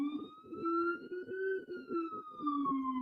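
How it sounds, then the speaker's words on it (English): Police siren wailing in a residential neighborhood, a single steady wavering tone with a pulsing yelp pattern underneath, moderately loud and somewhat distant. "Sorry for the sirens in the neighborhood."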